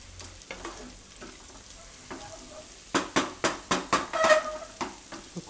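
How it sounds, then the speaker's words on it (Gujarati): Jowar pulao with spices is stirred in a pan, a quiet sizzle underneath, then a run of about eight sharp, rhythmic scraping strokes of the spoon against the metal. "તો આને થોડીક વાર આપણે પાકવા દેવું, વચ્ચે વચ્ચે હલાવતા રહેવું."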